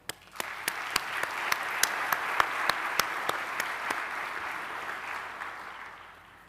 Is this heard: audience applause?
yes